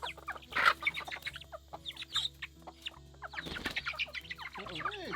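Newly arrived chicks in a chicken flock, including Gold and Silver Laced Wyandottes and a Polish, cluck and chirp nearby in scattered bursts, with brief bouts of wing flapping and rustling.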